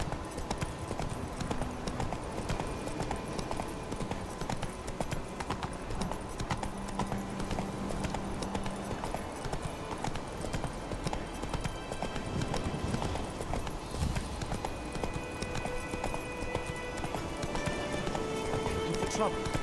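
Roach, a horse in The Witcher 3 video game, gallops with steady rhythmic clip-clop hoofbeats throughout, close and continuous, mixed with game ambience and occasional voices.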